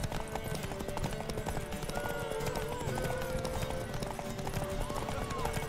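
Roach, a horse in The Witcher 3: Wild Hunt, gallops hard in a race, with steady rapid hoofbeats and an occasional whinny over constant background game noise and music, while voices speak throughout.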